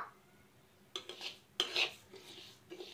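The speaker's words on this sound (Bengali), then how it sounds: "এবার তিলটা আমি একটা কড়াইতে ভেজে নেব।" Sesame seeds dry roasting in a wok, heard mostly as a metal spatula scraping and clinking against the pan in a few short bursts over faint background.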